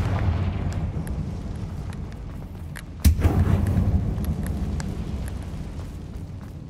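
A Confringo fire spell explodes in Hogwarts Legacy, one sharp loud blast midway followed by a rumbling tail, over a low steady cave ambience.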